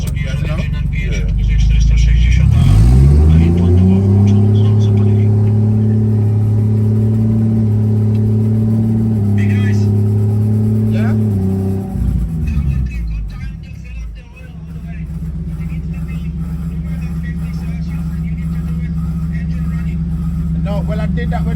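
Mercedes 190E fitted with a BMW 8HP ZF automatic transmission accelerating, a loud close engine drone climbing smoothly through quick seamless shifts, then dropping to a steady idle hum while people talk nearby.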